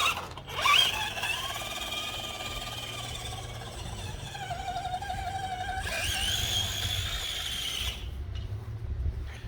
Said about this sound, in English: you can see how responsive that servo is. Really responsive.